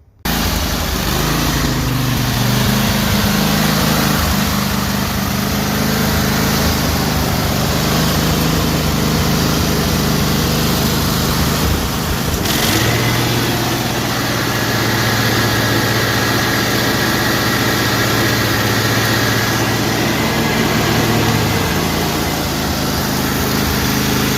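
A Cub Cadet Super LT 1554 lawn tractor engine runs steadily and loudly at close range for the whole stretch, a continuous droning idle with slight unevenness and no talking.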